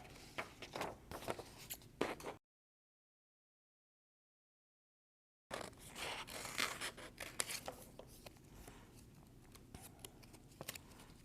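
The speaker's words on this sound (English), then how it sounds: "now all you have to do is cut them out. Scissors, and here we go" Scissors snip repeatedly up close through plastic DVD material, quick crisp cuts in bursts with a short silent gap partway through.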